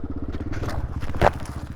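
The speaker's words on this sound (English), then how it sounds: "it was really loose and steep, so I had to be pretty cautious as the bike did want to start sliding down." An XR400 off-road motorcycle on loose, steep mountaintop terrain, engine thumping low and steady close by while loose ground crunches and scrapes under the sliding tires, with a brief sharper crackle partway through.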